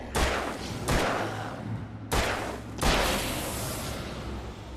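Gunshots in the video game Alan Wake: four heavy, booming shots spaced about a second apart, each with a long reverberant tail, loud and close, with no speech.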